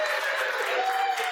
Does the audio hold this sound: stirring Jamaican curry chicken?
no